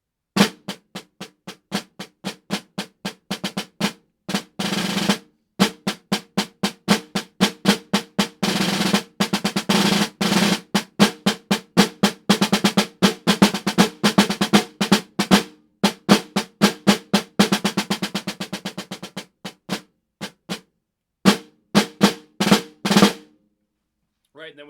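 Snare drum solo lick from a junior all-state percussion piece, played alone as a long run of crisp rapid strokes and rolls that swells in loudness across five bars, with brief pauses near the end before stopping.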